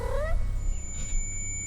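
A black cat in The Baby in Yellow video game gives a single short rising meow at the start, over a low steady game hum.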